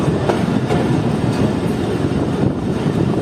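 The Karakoram Express rolls toward Landhi Junction with a loud, continuous rumbling roar and faint rhythmic clatter of wheels on rails, heard steadily and up close without talk.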